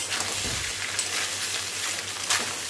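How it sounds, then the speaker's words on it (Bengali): Cooked rice stir-fried in a pan with a steady close sizzle and soft scraping stirs throughout, with no voices. "এবার নাড়াচাড়া করে নিলাম"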